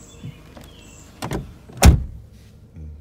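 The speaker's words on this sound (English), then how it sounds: "Door panel with the oddly placed window switch, but it works" Electric power window on a 1996 Mercedes-Benz C220 runs in a short motor whine, ending with a louder thunk as the glass reaches its stop inside the car.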